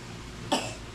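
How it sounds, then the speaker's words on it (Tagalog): A single short, sharp cough bursts out near the midpoint, fairly close, against quiet room background with no talking. "Eh, ba't inuubo to?"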